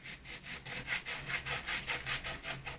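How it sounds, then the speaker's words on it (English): Molding paste on a craft surface being sanded by hand, a steady run of close, rhythmic scratchy back-and-forth strokes, about a dozen in quick succession with no talking. "Molding paste is a lot different than clay when you sand it."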